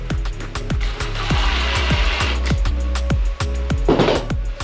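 Screws are driven into a Milwaukee Packout crate with a power tool: a steady run of rapid, close mechanical clicking and ratcheting under a whirring motor hum, with a brief dip in the middle and no talk.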